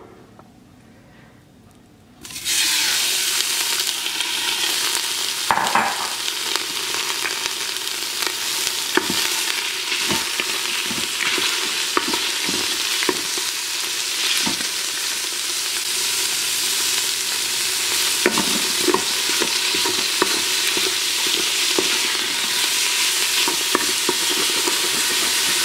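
Beef stew meat sears in the hot pot of an Instant Pot, a steady loud sizzle starting suddenly after a quiet couple of seconds and continuing with crackles and occasional scraping or stirring clicks.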